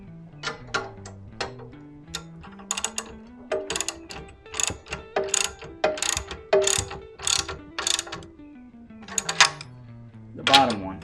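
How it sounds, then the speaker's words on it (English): A large ratchet clicks in quick repeated bursts while bolts are snugged up on a motorcycle jack hitch hauler during assembly, with someone speaking between and over the clicking. "This is a big ratchet"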